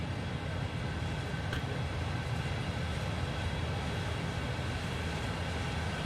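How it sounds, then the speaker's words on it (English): In the Train Sim World 2 video game, a train passes behind a wall near Horseshoe Curve in Juniata, making a steady, dense rumble that holds evenly for about six seconds, with no talking. "Oh, we've got a train there, look, behind the wall."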